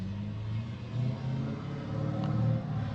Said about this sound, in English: Oh, cars outside.